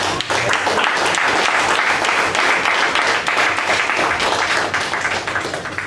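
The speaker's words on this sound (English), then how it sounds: "A big round of applause." An audience at a Toastmasters meeting gives a sustained round of applause, dense and loud, with many hands clapping steadily for several seconds.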